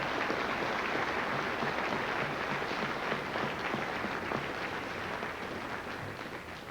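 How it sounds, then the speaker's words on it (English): Applause from an audience at a high school Veterans Day celebration, a dense wash of clapping that fills the room and fades slightly toward the end. "So please give them a round of applause."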